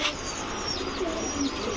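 Khaki pigeons coo softly and repeatedly in a loft, joined by faint chirps, with steady background noise and no talking.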